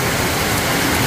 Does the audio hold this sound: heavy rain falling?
yes